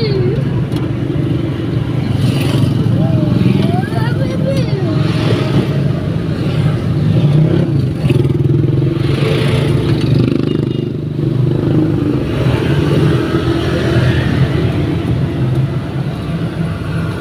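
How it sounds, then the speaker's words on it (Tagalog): Busy street traffic with cars and motorcycles rumbling past in a steady loud wash of engine noise, some passing louder than others, while people talk over it. "Daming mga sasakyan ah."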